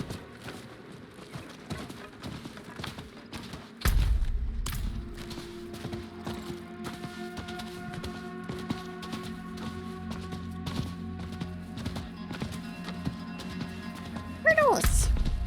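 Horse hooves clip-clopping in a rhythmic trot in Diablo IV, with game music and ambience layered underneath and a louder thump where the riding begins.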